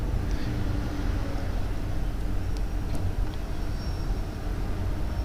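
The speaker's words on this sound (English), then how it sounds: "Here is the diesel generator." A diesel generator runs steadily inside a feed mill, giving a continuous loud low rumble and drone with no breaks, heard alone and close.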